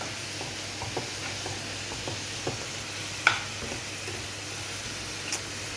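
Chicken with spices and tomato paste frying in a pan with a splash of water, giving a soft, steady sizzle with occasional light stirring scrapes and one sharper clink.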